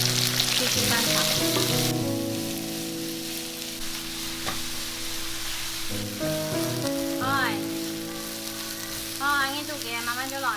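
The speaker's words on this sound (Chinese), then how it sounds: "继续翻炒" Taro stems stir-fried with chili and ginger in plenty of hot oil make a continuous loud sizzle with stirring, over sustained tonal background sounds and a few chirpy notes toward the end.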